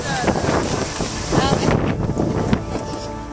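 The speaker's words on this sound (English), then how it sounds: "See how windy it is?" Strong gusts buffet the microphone outdoors at a Little League closing ceremony, with constant rumbling, flapping noise, loud and close throughout.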